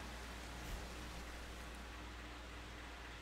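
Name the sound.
rain in the video game Metal Gear Solid 2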